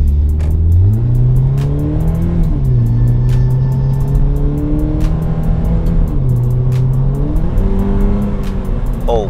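A Scion FR-S sports car engine revs and accelerates up close, its loud steady drone rising and dipping through gear changes with no one talking.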